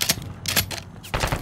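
Call of Duty gunfire crackles in sharp, loud bursts separated by brief pauses, close and dense, with no talking over it.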